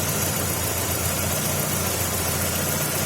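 A Chevrolet Lacetti 1.6 engine idles steadily and evenly, a constant mechanical hum with a faint rhythmic ticking heard close up and without any voices.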